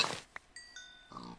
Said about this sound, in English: And pigs!